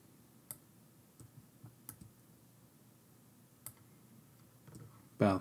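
A computer mouse clicks while drawing in CorelDraw: faint, sharp single clicks spaced irregularly over a quiet background, with a brief louder sound at the very end.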